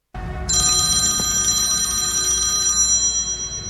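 A telephone ringing in a quiet room, a bright electronic trilling ring that starts abruptly and rings continuously for a few seconds, loud and close, with no voices.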